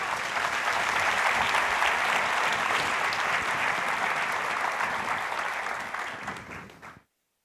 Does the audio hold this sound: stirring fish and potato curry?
no